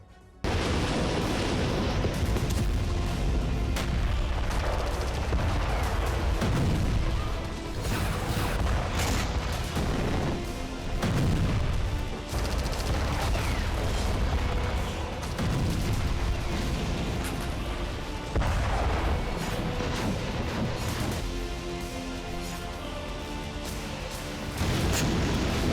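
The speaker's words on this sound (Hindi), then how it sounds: "यूक्रेन के गैस स्टेशन में बहुत बड़ा धमाका हुआ है।" A huge blast at a gas station near Kyiv, Ukraine, heard as a long run of deep, rumbling booms and roaring bursts that swell and fade repeatedly, loud and heavy throughout.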